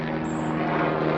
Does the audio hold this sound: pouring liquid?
no